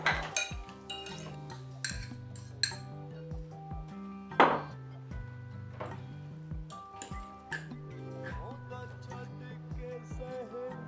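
Utensils clink and scrape against a bowl as a Thai rice salad with shrimp, pineapple and citrus is mixed, giving a series of irregular, close, fairly quiet metallic taps and knocks with no talking.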